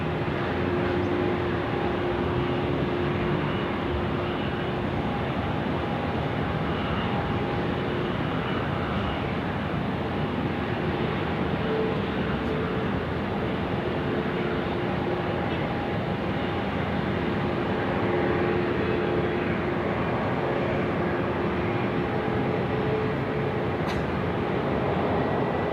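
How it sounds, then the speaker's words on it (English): Qantas flight 733 departs from runway 16 right at Sydney Airport. The jet's engines give a sustained, even roar that holds at a fairly steady loudness for the whole stretch, with no talk. "Qantas 733, runway 16 right, clear for takeoff."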